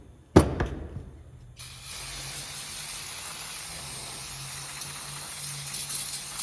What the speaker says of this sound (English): a little bit of brake clean here